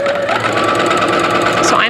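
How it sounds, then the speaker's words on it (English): Sewing machine stitching a quarter-inch seam on a quilt block, a steady rapid mechanical whir running continuously at close range, with a voice talking over it. "So I'm just sewing a nice 1/4 inch seam on either side of that line."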